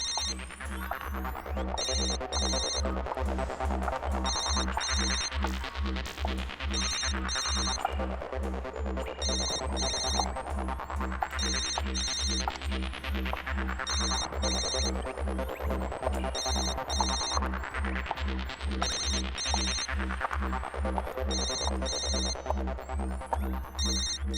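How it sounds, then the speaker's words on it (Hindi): A mobile phone ringtone rings continuously in a looping electronic melody, loud and repeating in regular cycles over a steady throbbing low beat, with no talking. "फोन तो यहीं कहीं बज रहा है"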